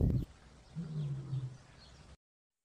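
A lion lets out a low, steady rumbling roar, moderately distant and fairly faint, after a brief knock at the start.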